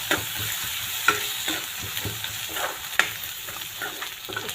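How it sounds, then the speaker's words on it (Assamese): Masala sizzles and fries steadily in hot mustard oil, with a few sharper clinks and scrapes as a spoon stirs the pan, with no voices. "এইখিনি এতিয়া মই ভালকৈ ভুনি ল'ম।"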